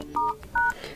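Keypad tones from an OPPO Find X2 Pro while a secret code is dialed: two short, clean beeps, spaced about a third of a second apart, over faint background noise.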